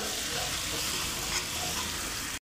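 Coriander stems dry-roasting in a pan as besan vadi is prepared, giving a steady, close sizzle with soft stirring scrapes throughout and no talking, cutting off abruptly at the end.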